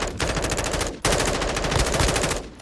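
Rapid automatic gunfire in the video game Warzone 2, two loud sustained bursts of fast shots, the first about a second long and the second slightly longer, close and dense.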